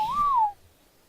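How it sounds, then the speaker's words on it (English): A short rising-then-falling whistle from the whistle command in the video game Ark, a single clear tone lasting about half a second, loud and close with no talking. "That's also a whistle button, is it?"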